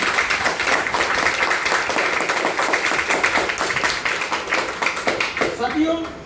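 A hall audience claps loudly and steadily for a health awareness program, with dense, continuous applause that holds for several seconds before thinning out, and a voice speaking near the end.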